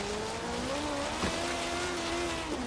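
Cars driving in Forza Horizon 3 give a steady, droning engine note that rises and falls slightly as they move, with no talking over it.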